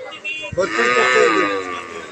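A Holstein Friesian dairy cow at a village cattle market lets out a single drawn-out moo, close and fairly loud, after a short knock and a brief vocal sound at the start.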